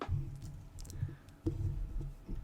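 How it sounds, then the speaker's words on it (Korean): A few sharp, light right-clicks of a computer mouse sound close by in a quiet room, spaced unevenly. "마우스 오른쪽 버튼 눌러서 New 하기를 새로운 패키지를 생성하도록 합시다"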